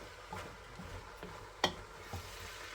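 Potatoes in a pan give off a faint, low sizzle while a utensil stirs them, with a few soft scrapes and one sharper knock against the pan, quiet and close.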